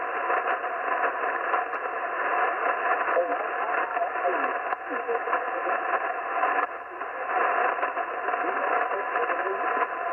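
Steady band-limited hiss and crackle from a ham radio receiver tuned to 40 meters, loud and continuous with no signals or voices standing out.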